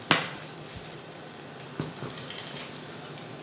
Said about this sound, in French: Donc voilà, nos truites sont en train de cuire.